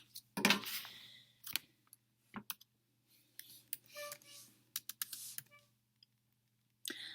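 Quiet, sparse key taps as numbers are entered into a calculator or computer, arriving in small irregular bursts separated by silence.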